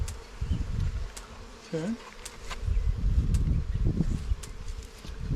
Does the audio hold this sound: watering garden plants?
no